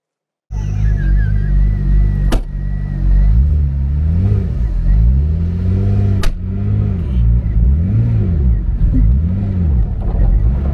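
A race car accelerating hard away from a motorway toll booth, its engine roaring loud and close with repeated revving swells and gear changes throughout.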